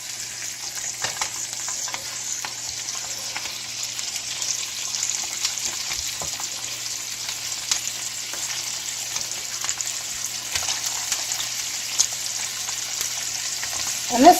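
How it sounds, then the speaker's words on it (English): Chicken breast pieces, flesh side down, sizzle steadily as they brown in a hot pan, a constant close frying hiss with a few light clinks, no talking. "And here's a little sizzle here."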